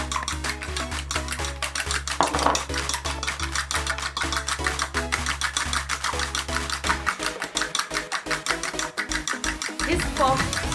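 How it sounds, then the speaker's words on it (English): Two eggs are beaten vigorously in a bowl until foamy for a Spanish potato omelette, a fast steady rhythm of whisk clicks against the bowl continuing throughout, close and fairly loud, with a low hum underneath that drops out near the end. "So now these are my 2 eggs. So I'm going to beat them until they are foamy."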